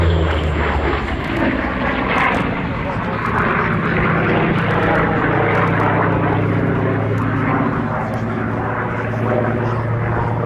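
A Grumman F8F Bearcat at the Duxford Battle of Britain air show gives a loud, steady propeller-engine drone throughout, with a low rumble and crowd or commentary sounds mixed underneath.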